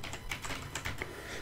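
Typing on a computer keyboard while entering spreadsheet items, a quick run of close, crisp key clicks in an uneven rhythm over a faint background hum.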